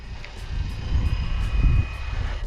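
A Flywing BO 105 radio-controlled scale helicopter hovers nearby, a steady low rotor thrum with a thin high motor whine and a faint rhythmic rotor pulse.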